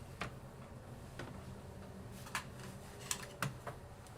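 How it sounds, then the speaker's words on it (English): Several sharp, isolated key presses on a Mac computer keyboard, the FN and F2 keys clicked one after another at an uneven pace, close and fairly quiet against a low steady hum. "So let's try FN and then F2. So you had to press the FN button."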